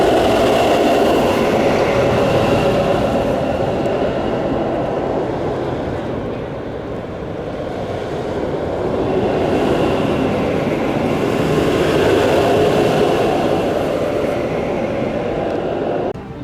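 The Icebreaker roller coaster at SeaWorld Orlando running its second half over the top hat, a steady loud rumbling roar of the train on track that swells and fades over several seconds.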